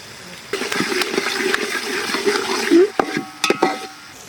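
Curry leaves frying in a pan for paneer biryani, a close, loud sizzle with stirring scrapes and several sharp metallic spoon clinks, briefly flaring then settling into separate knocks.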